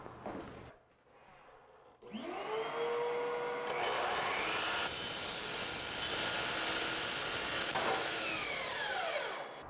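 A miter saw cuts wood trim rail at a 22.5-degree angle: a loud sustained whine spins up after a brief pause and runs steadily through the cut, then winds down, close and with no talk.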